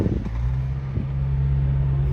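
A 1992 Subaru Sambar 4x4 mini truck with a five-speed manual pulls away, its small engine giving a steady, close low rumble and a brief clatter as it moves off.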